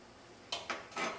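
A metal spoon clinks against a pot three times in quick succession, close and crisp, while a mixture with cold water is stirred.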